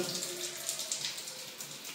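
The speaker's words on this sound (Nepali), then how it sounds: "यति गर्दा पनि यसले पानी आइरहेको छ" Water keeps trickling and splashing into a commode cistern even with the float lifted, a close, faint, continuous bubbling flow with soft gurgles.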